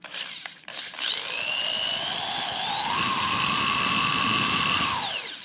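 A high-pitched electric drill whirs steadily for several seconds after a few short taps, its pitch climbing slightly before winding down at the end.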